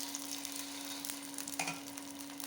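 Semolina batter for guntha ponganalu crackles faintly in a paniyaram pan, a soft, even sizzle under a steady low hum, with a few slightly louder pops and no talking.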